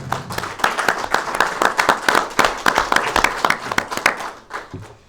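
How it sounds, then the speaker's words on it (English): An audience at a Kaizer Chiefs press conference claps with distinct, separate claps in an uneven rhythm, fading near the end. "Round of applause once more."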